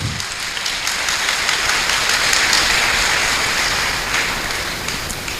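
Steady broadband applause from a church congregation during a Father's Day sermon, a dense continuous patter of many hands clapping for several seconds with no speech over it.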